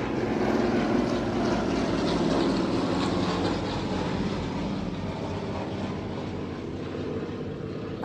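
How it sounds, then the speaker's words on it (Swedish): Helicopters flying past outside, a steady loud rotor and engine drone that stays level for the whole stretch and eases off slightly toward the end, with no talk. "Helikopterna flyger förbi här."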